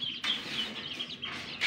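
Pet birds kept on a rooftop give off bright, steady chirps and calls, with sharper bursts near the start and again at the end, all close and with no talking.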